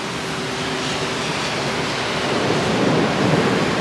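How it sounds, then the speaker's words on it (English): Steady heavy rain hiss with a low rumble of thunder building toward the end, loud and continuous, no voices. "Ooh, that was a big thunder."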